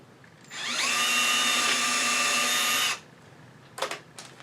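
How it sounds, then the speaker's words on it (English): An electric drill bores into wood held in a V-block for a woodturned nativity piece, a single steady whine lasting about two and a half seconds, then stopping, followed by a couple of brief knocks. "I find it just as easy to do it with an electric drill"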